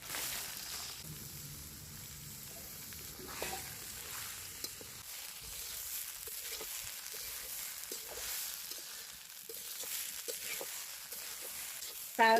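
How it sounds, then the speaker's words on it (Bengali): Rice frying in a pan with ginger paste while cooking egg pulao, a soft steady sizzle with occasional stirring scrapes, fairly quiet and close. "চাউলটা আমার ভাজা হয়ে গেছে"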